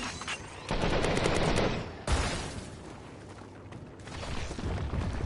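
Dense bursts of gunfire in the Farpoint shooter game, a sustained rapid volley followed by a sharp blast and a rougher, noisier stretch of shooting, loud and close.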